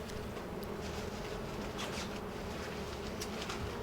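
Honey bees buzz in a dense, continuous drone close by during honey extraction in a garden, with faint chirps in the background and no one speaking.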